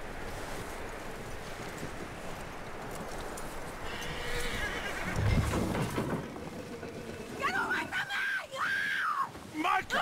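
A horse in the Western video game Red Dead Redemption 2 neighs and whinnies loudly near the end, after hoof clip-clops and rustling movement, with game voices talking around it.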